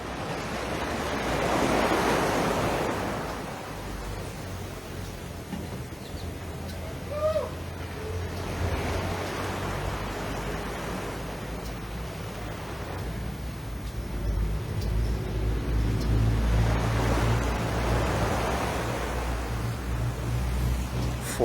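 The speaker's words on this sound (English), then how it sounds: "20 seconds of peace and quiet and serenity and the sounds of the ocean" Ocean waves washing onto the shore at Weston Beach at daybreak, three slow swells rising and fading with a steady hiss of surf and wind between them, with no voices.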